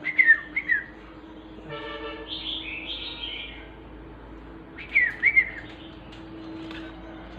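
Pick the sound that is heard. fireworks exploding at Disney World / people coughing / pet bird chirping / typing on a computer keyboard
pet bird chirping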